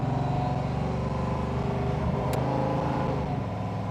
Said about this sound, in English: Let's test out that Ray Barton Hemi.